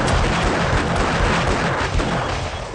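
A loud, dense barrage of rapid automated turret fire against zombies in the 7 Days to Die video game, sustained and unbroken with no voices.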